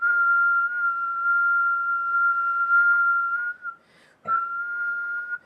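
A voice whistles a steady, sustained high tone imitating a whistling toilet, holding the pitch for several seconds, breaking briefly, then resuming close and clear with no other sound.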